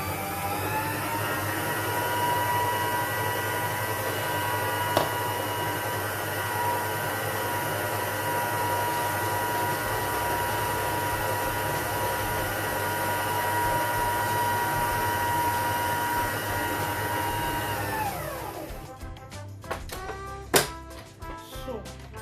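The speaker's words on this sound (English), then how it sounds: "at this time I'm going to increase the volume or the speed of the mixer" An electric mixer beating coconut cake batter at high speed gives a loud, steady motor whine with a droning hum that runs nearly nonstop, then spins down and stops, followed by a few knocks and clatters.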